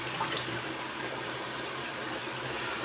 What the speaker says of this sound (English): I'm going to go get some cold water going